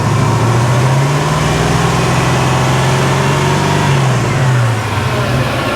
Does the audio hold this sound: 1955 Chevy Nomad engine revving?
yes